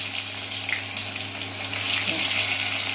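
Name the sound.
ginger and garlic frying in a pan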